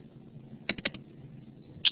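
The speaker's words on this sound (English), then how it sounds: "a couple other people are typing stuff" Faint, sparse clicks of people typing on computer keyboards during an online math lesson, a quick cluster of three or four keystrokes followed later by a single sharper tap over a quiet room background.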